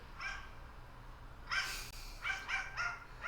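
A dog barks in a few short bursts, with a sharp bark then a quick pair of yaps near the end, fairly close over a quiet room hum.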